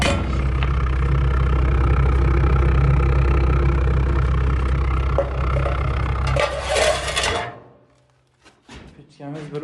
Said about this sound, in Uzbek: Mana bu traktormi? Bu traktor.